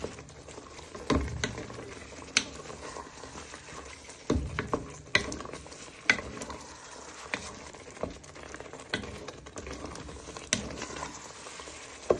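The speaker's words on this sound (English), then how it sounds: "Then you'll give this a stir and then you'll put the lid on" A spoon stirs Mexican prawn soup in a pot, giving quiet irregular scrapes and knocks over a soft simmering bubble, close and fairly faint, with no talking.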